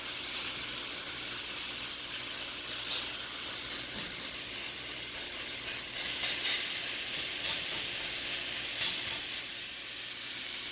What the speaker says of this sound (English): So we're just gonna sear it a little while on this side